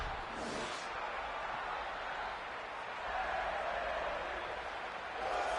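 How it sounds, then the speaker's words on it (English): A football stadium crowd sings en masse after a playoff win, a broad, steady roar of voices filling the space at a distance. "Listen to that crowd sing."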